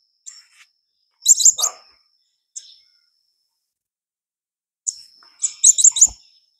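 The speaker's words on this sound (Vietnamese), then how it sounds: "hai con vành khuyên của mình đây." Two caged Japanese white-eyes give short, high thin chirps and rapid trilled bursts in two clusters separated by silence, close and clear with a soft click at the end.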